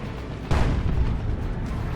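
Mega boom shot artillery in Dawn of War 2: Retribution, a Warboss battle, strikes as a sudden broad blast about halfway through, its rumbling roar sustaining loudly to the end over low battle noise.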